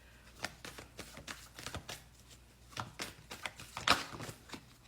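Tarot cards being shuffled by hand, a quick series of soft riffling flicks and taps, close and fairly quiet, with brief pauses between bursts.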